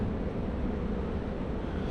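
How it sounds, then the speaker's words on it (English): Wind gusting steadily during rain at a winter truck campsite, a broad, even rushing roar that buffets the microphone throughout, moderately loud and with no voices. "there is a gust of wind coming in"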